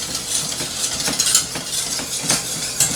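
A utensil scrapes and clinks around a pan while minced garlic is stirred into a roux, giving close, steady scraping strokes with a rhythmic metallic tick and no voices.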